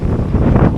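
Steady wind gusting across an open jogging road in Barangay Bangbang, Bulacan, roaring as loud microphone buffeting that fills the whole moment with no voices.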